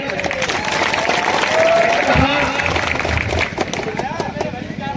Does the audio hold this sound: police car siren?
no